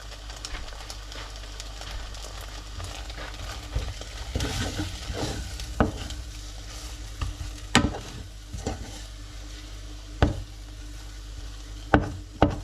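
Homemade béchamel of butter and flour cooks in a pan, giving a soft steady sizzle with occasional louder scrapes and clinks of stirring close by. No one talks.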